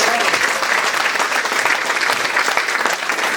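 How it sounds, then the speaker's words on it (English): Audience applause at a restaurant ketchup recipe contest program, a dense burst of clapping from a crowd indoors, loud and steady throughout the few seconds. "Let's give Larry a round of applause."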